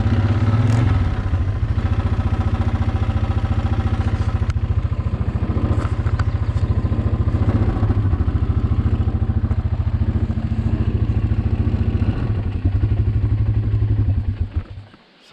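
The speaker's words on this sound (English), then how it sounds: "Sometimes this bike doesn't quite work properly, and that's why it's in our backup." Malfunctioning backup motorcycle engine running steadily up close, a loud pulsing rumble with rattling clatter, before it cuts out abruptly at the end.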